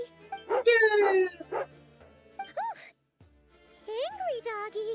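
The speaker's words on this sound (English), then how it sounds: "Angry doggy." A dog in the video game Genshin Impact gives short, angry yips and whimpering barks in scattered bursts, with a brief silent gap partway through and no speech.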